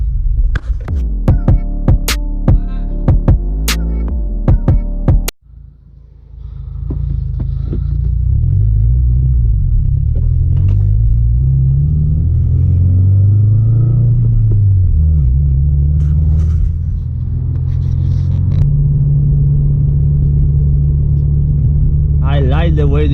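A 2016 Subaru WRX's engine and exhaust drone steadily from inside the cabin, the low rumble rising and falling in pitch as the car accelerates and shifts; stock apart from a catback exhaust.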